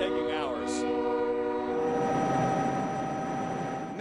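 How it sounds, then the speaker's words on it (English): A train sounds its horn and rumbles past near a Kansas highway truck crash site, the horn blast giving way to a steady rolling roar of rail cars close by. "the trains are now running through here"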